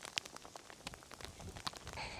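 Hail falls during a storm in Mongolia, a faint irregular patter of small hard impacts ticking and crackling close by against a soft background rush.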